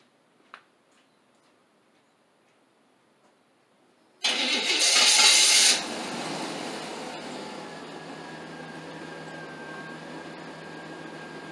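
A vehicle engine cranks with a loud burst of starter noise, then catches and settles into a steady idle that continues alone, heard during trailer light and wiring repair work.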